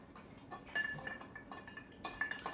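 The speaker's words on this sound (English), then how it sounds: "So you want to mix this around once you put in your ice." A spoon stirs ice cubes in a glass while an Old Fashioned cocktail is mixed, giving a close run of light, irregular clinks and rattles with no talking.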